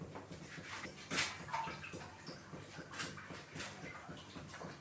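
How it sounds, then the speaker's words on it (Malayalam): Water poured into a cooking pot in a home kitchen, a splashing, gurgling stream with a few drips and clinks, fairly close and moderately quiet. "വെള്ളം ഇങ്ങനെ ഒഴിക്കാം."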